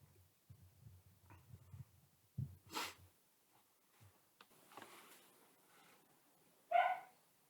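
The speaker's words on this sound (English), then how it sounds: "don't mind the dogs, they're barking in the background" Dogs barking in the background of a home kitchen on a hot day, a few faint muffled barks and snorts spread out over quiet room noise.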